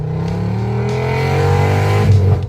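Audi five-cylinder petrol engine, as in the 1977 Audi 100, revving loudly and close, its pitch climbing steadily in one sustained pull before cutting off abruptly.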